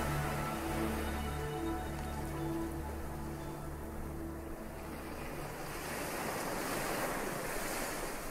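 Calm ocean waves wash onto a sandy beach at night in a steady, continuous rush of surf, with low rumbling swells and a soft hiss of spray and wind, close and even throughout with no voices.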